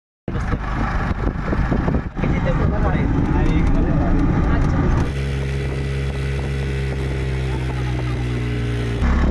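Engine drone and road rumble from inside a moving auto-rickshaw near Sajjangad, loud and continuous throughout, with voices talking in the early part and a steadier, smoother hum later.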